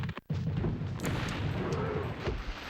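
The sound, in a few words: explosions of ammunition in Spyro 2: Ripto's Rage video game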